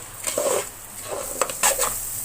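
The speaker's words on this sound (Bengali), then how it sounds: "এখন আমি চাউলটা সুন্দর করে ভেজে নিব" Rice is fried in a pan for beef tehari while a spoon stirs and scrapes it, giving a run of close, uneven scrapes and soft sizzling with a few sharper metallic knocks.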